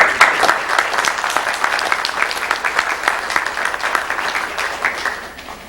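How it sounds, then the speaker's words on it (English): A hall audience at a scouting gathering applauds steadily, a dense, even wash of clapping that carries on for several seconds before tapering off slightly at the end. "So maybe we can have a little round of applause"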